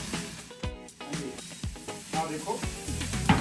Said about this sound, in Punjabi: ਹੁਣ ਆਪਾਂ ਥੋੜਾ ਜਿਹਾ ਭੁੰਨ ਲੈਂਦੇ